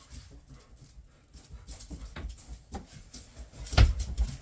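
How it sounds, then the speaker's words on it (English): A black Labrador and other dogs pant and scramble in, quick breathy huffs over soft pattering paws, close but fairly quiet in a home, with a sharper thump near the end. "And someone just let the dogs out."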